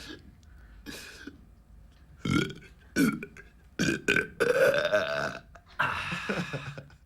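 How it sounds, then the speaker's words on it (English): A man burps on demand several times, loud and close, the long drawn-out belches rising in pitch, with short pauses between them and no talk over them. "How did you generate the burp?"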